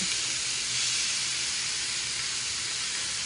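Burger patties sear on a hot griddle with a dense, steady hiss that holds at an even level for the whole stretch, close by and without talking.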